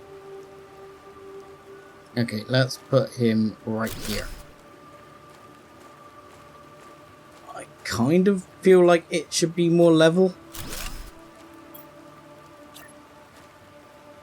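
Soft, steady video game rain in Planet Crafter patters in the background while someone talks over it, with a faint constant hum underneath.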